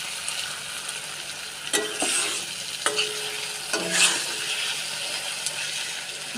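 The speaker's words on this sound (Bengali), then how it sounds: "দিয়ে এটা ভালো করে কষিয়ে নেবো মশলাটা।" Tomato and spice masala frying in oil in a pan, with a steady sizzle broken by several sharp scraping stirs of a spatula. The sound is close and continuous, and no one speaks.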